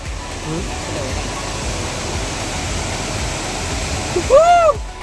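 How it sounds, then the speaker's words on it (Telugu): Steady rushing of water flowing toward Khumbe Waterfall fills the whole clip, a broad continuous roar, with a brief voice rising near the end. "ఇగో ఇదే అన్నమాట ఫ్లో అయ్యే వాటర్."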